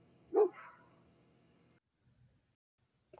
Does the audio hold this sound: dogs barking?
yes